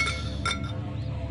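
A glass plate in a video game gives two quick bright clinks, short and fairly quiet, with no voices.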